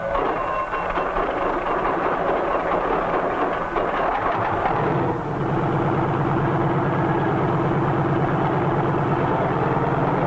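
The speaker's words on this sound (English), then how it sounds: "A self-starter starts the engine, and after a careful warm-up, we're ready to take to the air." A helicopter engine is started with a self-starter and warmed up. A dense, rumbling roar settles midway into a steadier, humming whine as the engine runs up. It is loud and continuous, with no voices.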